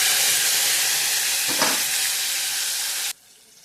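Tomatoes drop into hot oil already crackling with mustard seeds, cumin and curry leaves, a loud close sizzle that swells briefly as they hit, then holds steady before cutting off abruptly.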